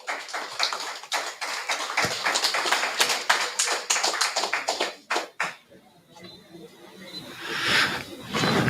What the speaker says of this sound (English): I'm sure that he deserves a bigger applause than that